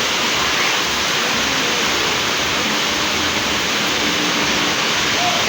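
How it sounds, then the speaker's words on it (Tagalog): A dense, loud, continuous wash of heavy rain noise during a red rainfall warning, steady throughout, like a heavy downpour close by. "wala pa rin pong tigil ang ulan. Palakas pa rin po siya ng palakas."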